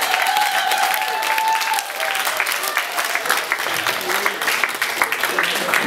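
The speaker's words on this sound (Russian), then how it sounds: "аплодисменты!" After a dance-hall seminar session, a crowd breaks into steady, loud applause that keeps going for several seconds, with a voice speaking over it partway through.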